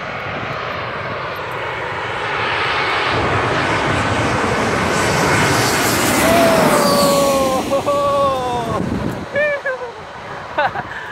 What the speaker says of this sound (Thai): เครื่องบินกำลังจะลงมามันจะลงมาบนหัวผมพอดี